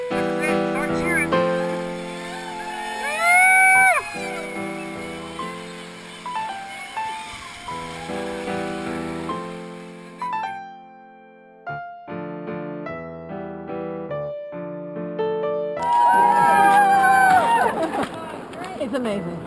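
Rafters on the White Salmon River cheering and shouting, loud excited whoops rising in bursts over a background of other voices and quieter stretches, with people calling out and talking in between.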